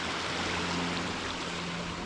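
A forest waterfall in Scotland rushes steadily as a dense, unbroken roar, even and continuous with no voices over it.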